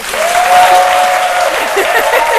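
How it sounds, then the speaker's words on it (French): Studio audience on a live TV talk show applauds loudly and steadily, with a long whistle riding over the clapping. "On l'applaudit encore très"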